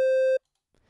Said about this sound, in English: this is a triangle wave.